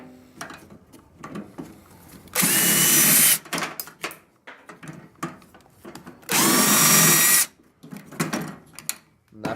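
A power drill whines in two sustained loud bursts of about a second each while backing screws out of a microwave being scrapped, with quieter handling clicks and clatter between them.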